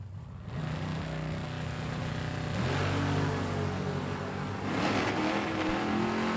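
At a drag race, a Chevrolet Chevelle and a Camaro Roadster launch down the strip: a loud, sustained engine roar whose pitch climbs through gear changes, with a broad rushing wash of noise.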